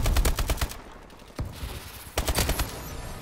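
Rapid automatic gunfire from Call of Duty: Advanced Warfare, loud close bursts of shots in two volleys separated by a quieter gap, with no talking.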